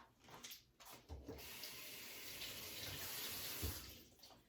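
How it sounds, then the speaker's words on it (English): Tap water runs steadily into a sink as food is rinsed under the stream, with faint handling splashes near the start and a clearer splash late in the clip, no voices. "I'm going to rinse this off"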